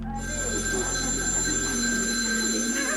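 A telephone rings loudly and steadily close by, a continuous electronic bell tone with bright sustained overtones lasting about three seconds, and no voices over it.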